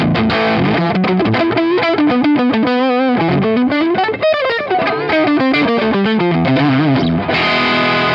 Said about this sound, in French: une grosse distorsion en chevalet, ça va se transformer en très gros crunch en manche